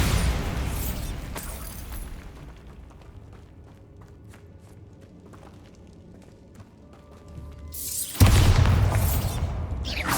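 Bombarda blasting spell explosions in the video game Hogwarts Legacy: a loud booming burst at the start, a quieter rumbling stretch, then another heavy blast near the end.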